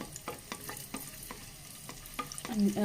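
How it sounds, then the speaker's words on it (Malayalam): Cashews, raisins and almonds roasting in a pan for semiya payasam, with a soft continuous sizzle broken by regular scraping stirs, close and alone. "ബദാമും മുന്തിരിയും ഒന്ന് റോസ്റ്റായി വരട്ടെ"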